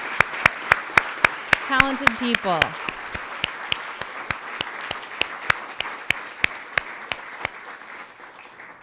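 An audience at a talk on Portland's 1970s and 80s underground press applauds in a broad, steady wash, with a voice speaking briefly over the start and an evenly spaced sharp ticking running throughout.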